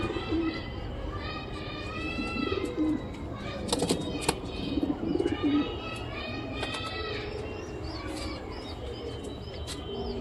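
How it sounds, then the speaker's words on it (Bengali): Giribaz pigeons coo repeatedly at night in a loft, soft rolling calls overlapping with occasional chirps and brief wing flutters, close by with a steady background hum and some faint talk. "কাকার খুব অনেক সুন্দর সুন্দর কবুতর আছে, বিভিন্ন ধরনের কবুতর।"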